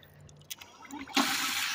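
Water gushes through a gold sluice turbo rig after a few light clanks, a steady loud rushing flow that starts abruptly and continues to the end.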